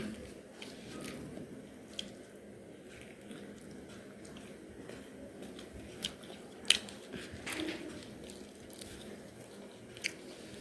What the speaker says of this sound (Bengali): আমি একটু আলুর চপটা টেস্ট করে দেখি।